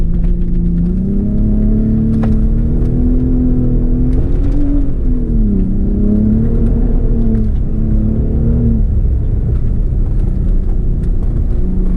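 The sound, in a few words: Ford Raptor truck driving on an offroad rally track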